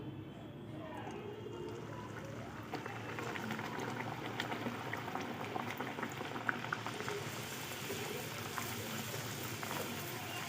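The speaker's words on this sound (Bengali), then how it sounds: "কড়াইতে তেল দিয়ে গরম করতে দিয়ে দিয়েছি মোটামুটি এখন গরম হয়ে গেছে এবার আমি একটা একটা করে কচুরিগুলো ছেড়ে দেবো" Kochuri dropped one by one into hot oil in a kadai bubble and sizzle in a steady, continuous frying hiss that stays close and even throughout.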